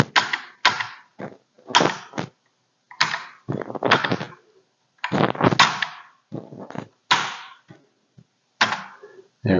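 Typing on the keyboard of a Commodore SX-64 computer under repair, with a worn keyboard membrane: loud, sharp, separate keystrokes, clacky and close, in uneven bursts with short silent gaps.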